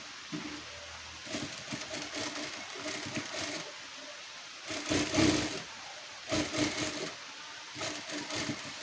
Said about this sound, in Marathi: आता आपण टीप मारून घेऊयात.